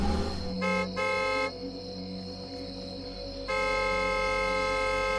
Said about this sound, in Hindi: श्याम ने पार्किंग के दरवाजे के सामने गाड़ी खड़ी कर हॉर्न बजाना शुरू किया।